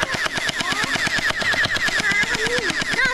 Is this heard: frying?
no